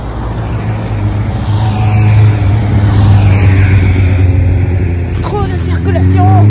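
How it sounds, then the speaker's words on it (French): Road traffic near a coastal walk at Le Croisic, with cars and motorcycles passing; a steady loud engine drone builds and swells as vehicles go by, with birds chirping faintly and people talking over it. "Trop de circulation."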